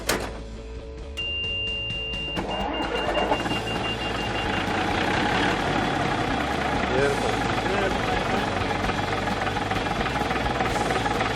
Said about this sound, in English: runs on a 6-cylinder Gardner Marine diesel engine out of a yacht.